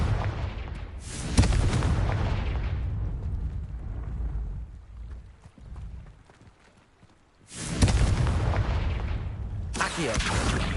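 Confringo blasting curse from Hogwarts Legacy exploding in two heavy bursts, each a loud booming blast with a rumbling tail, separated by a quieter stretch of fading rumble.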